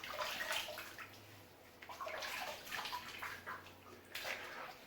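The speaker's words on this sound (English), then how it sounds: "All right, I'm gonna rinse and feel around." Water runs steadily from a tap while a safety razor loaded with a Personna blade is rinsed during a shave, a faint, uneven hiss with brief splashy surges and no talking.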